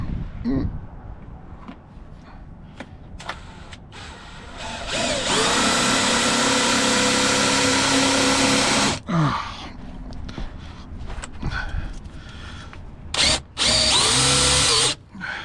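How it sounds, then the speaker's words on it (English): A power drill drives a self-tapping screw into a Volvo XC90 while a Curt trailer wiring kit is installed, with two loud whirring bursts, a long one midway and a shorter one near the end, amid clicks and handling noises. "See if we can get a self-tapper in there."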